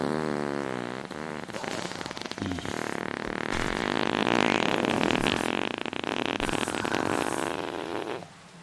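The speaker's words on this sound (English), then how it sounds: "Oh, there's the fart. Mega fart." A loud, drawn-out fart sound effect from the video game Lost Relics, a rough, buzzing blast that carries on for several seconds before cutting off, with no talking over it.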